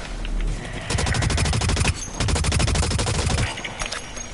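Rapid automatic gunfire in the shooter game Blacklight: Retribution, two long dense bursts of shots separated by a short pause, loud and close.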